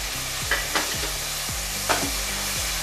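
Tomato puree sizzling with spice paste in a pan, a continuous frying hiss broken by a couple of soft stirring scrapes.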